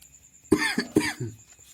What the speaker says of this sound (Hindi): थोड़ा तबीयत हमारा डाउन है, खांसी हो गया है